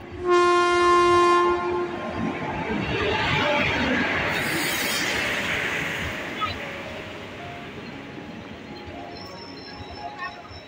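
Katwa–Azimganj local train running, opening with a loud sustained horn blast, then the heavy rumble and rushing noise of the passing train fading gradually into the distance.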